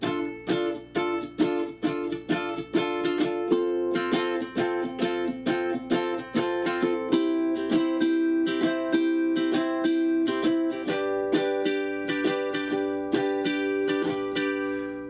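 Repeated bright strums on a ukulele, steady rhythmic chords moving through a progression, with quick down strokes and no singing.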